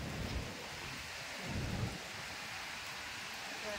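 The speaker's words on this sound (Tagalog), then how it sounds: "naririnig nyo yung hangin na yun. Umuugong na." Strong typhoon wind roars steadily in broad, continuous rumbling gusts, swelling around the middle, with heavy rain and floodwater noise mixed in.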